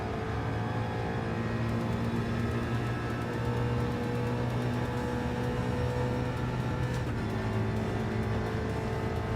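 Race car engine in Gran Turismo 7 on PS5 Pro, a loud continuous droning whine held at steady revs with a brief shift in pitch partway through.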